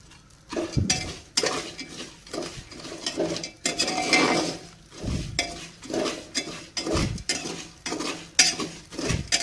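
Black chickpeas are stirred as they dry-roast in a pressure cooker over a full gas flame, giving repeated close metallic scrapes and rattling grains in an uneven, continuous rhythm with no talking.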